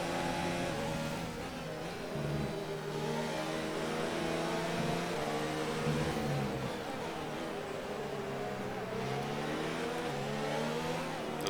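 Race car engine in F1 2019 at the Brazilian Grand Prix, revving and shifting steadily at moderate volume, its pitch sweeping up and down through gear changes with no break in the drone.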